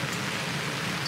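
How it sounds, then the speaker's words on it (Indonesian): Steady rain falls on a mountain campsite near the Malabar summit, a dense even hiss with no voices. "Sampai saat ini masih hujan"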